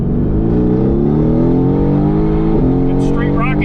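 A tuned Mercedes-AMG GT R making about 680 horsepower to the wheels accelerates hard, its engine droning loud and close as the pitch climbs steadily, with a brief shift dip and a voice near the end.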